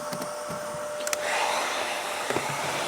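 Hot air gun running off a portable power station, giving a steady broadband fan-and-airflow rush that strengthens after a couple of clicks, with no talking.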